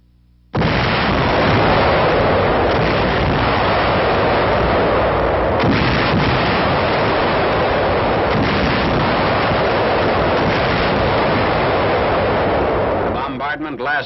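Warships bombard the Imperial Iron and Steel Works at Kamaishi from off the shoreline. A loud, continuous roar of heavy gunfire and blasts begins abruptly and lasts about thirteen seconds.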